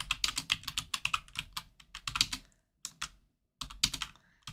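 Keys clatter on a computer keyboard in quick, close bursts of typing, separated by short pauses, with no speech.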